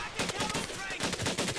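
Submachine gun fire in the video game Medal of Honor: Pacific Assault comes as dense, rapid bursts of shots that fill a short span, loud and close.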